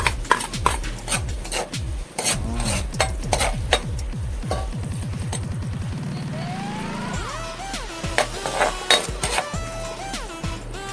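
Garlic and onion stirred in hot oil in a pan while cooking lomi, with steady close scraping strokes against the metal and a soft sizzle underneath, along with a few clinks of the utensil.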